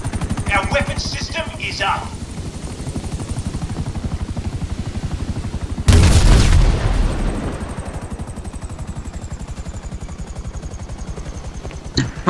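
Steady helicopter-like rotor thumping in the video game GTA 5, broken midway by a loud burst of gunfire from a yacht's defense system that fades, then the rotor drone continues.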